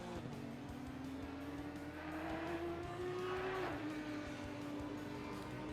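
A race car at Imola in a sim racing game drones with a steady engine note that climbs in pitch through the gears, then drops at a shift, with faint tire noise underneath.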